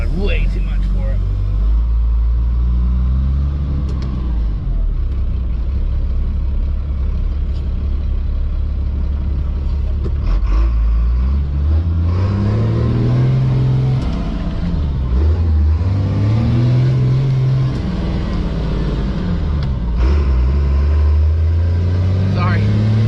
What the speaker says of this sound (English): car came around the corner up here